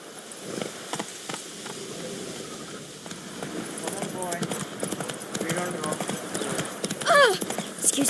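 Horse hooves clip-clopping in The Witcher 3, a steady rhythmic gallop with buzzing insect-like ambience, brief whinny-like squeals near the end, and a voice speaking over it.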